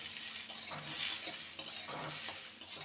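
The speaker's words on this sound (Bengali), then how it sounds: "এবার পেঁয়াজ কলিটাকে দু মিনিটের মতন ভেজে নেব" Spring onions and potatoes frying in a pan, a close bright sizzle with repeated scraping stirs and light clinks of a utensil against the pan, no talk.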